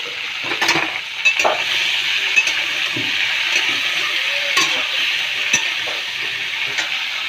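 Dry fish curry with potatoes and vegetable stalks sizzles steadily in a pan, with a continuous hissing fry and intermittent scraping clinks of a spoon stirring, close and alone without talk.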